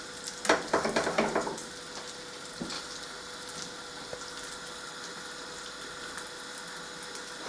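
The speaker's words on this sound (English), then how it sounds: "Okay, so these have been frying now on a medium" Smoked haddock and salmon fishcakes frying in a pan over medium heat, starting with a burst of crackling spatter that settles into a faint steady sizzle, close by.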